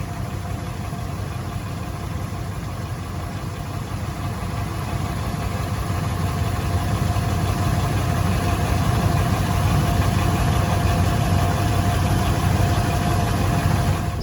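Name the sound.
vehicle engine running with a weird noise from the front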